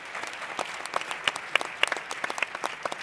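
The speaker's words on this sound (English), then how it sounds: "A warm applause to these outstanding entrepreneurs and innovators" A crowd at an alumni entrepreneurship forum applauds outstanding entrepreneurs and innovators, with brisk, dense clapping and sharp individual claps standing out throughout.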